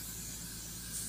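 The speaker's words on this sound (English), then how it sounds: "and using hairspray" Hairspray hisses in a brief, soft, continuous burst as it is sprayed onto a child's hair being smoothed into a high, tight ponytail.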